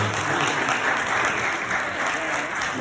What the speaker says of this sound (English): Let's give Sister Glenda Thomas a big round of applause, ladies and gentlemen.